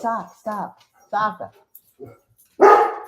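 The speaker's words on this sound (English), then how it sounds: "Barking at the front door." A dog barks at the front door, sounding several sharp close barks in a broken series with a louder final bark, while a person speaks briefly.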